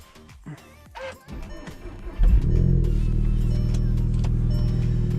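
Clicks and a cranking whir, then a car engine with an APR turbo inlet pipe catches on a cold start and settles into a loud, steady low idle nearby.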